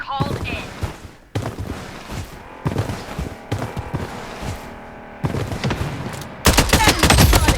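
Rapid gunfire in the shooter video game BloodStrike: repeated loud bursts and single shots in uneven clusters, with brief gaps and a dense barrage at the end, while players talk over it.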